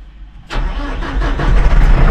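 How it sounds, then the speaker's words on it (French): A tractor engine cranks and catches, then settles into a loud, rough diesel idle that builds steadily in strength, close to the microphone with no talk. "Démarrer le tracteur."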